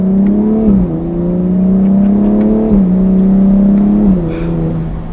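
A 2020 BMW X3 M Competition SUV engine drones loudly and steadily, climbing in pitch through quick gear changes with a throaty exhaust note, close and continuous.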